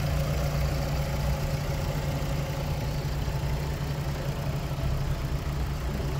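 A 2010 Fiat Strada's 1.4 Fire engine idles steadily with a low, constant rumble and hum, close by and unchanging throughout, with no talking.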